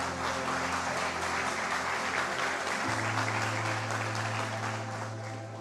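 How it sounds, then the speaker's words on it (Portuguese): A church congregation applauds during a sermon, dense sustained clapping from many people filling the room, loud and even, with a low organ or keyboard drone underneath that shifts partway through. "Vamos aplaudir o nome do Senhor."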